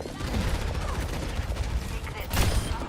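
Rapid video game gunfire crackles in a dense burst of shots, loud and close, with a sharper report near the end.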